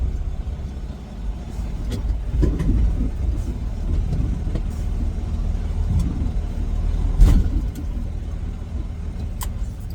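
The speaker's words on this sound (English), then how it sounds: "Get hooked up, back up to our trailer here." Semi truck backing up to hook onto its trailer, a steady low diesel engine rumble close by with scattered clanks and knocks, one louder thump partway through, and no talking.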